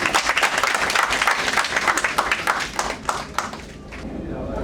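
An audience at a book launch claps and applauds loudly, a dense burst of many hands that gradually thins out toward the end.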